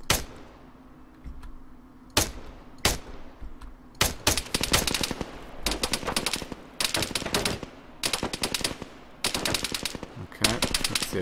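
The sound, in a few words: machine gun fire in the video game Arma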